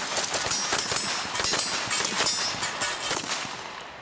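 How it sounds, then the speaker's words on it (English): An AK-12 Kalashnikov rifle fires automatic bursts at an outdoor firing range, a loud, dense stream of sharp cracks with metallic ringing over a continuous roar. "the new AK-12 allows the shooter to better control the automatic fire."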